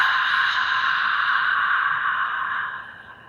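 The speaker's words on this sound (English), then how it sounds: "And then I ujjayi breathe, the style of yogic breathing that constricts through the back of your throat" Ujjayi yogic breath drawn through a constricted throat, a steady breathy hiss lasting about three seconds before fading, close and alone.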